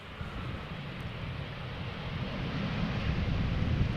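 Eastern Airways plane flying as KLM arriving at Schiphol Airport, a broad rumbling engine roar heard from a distance that slowly swells louder over a few seconds, with some wind noise and no talk.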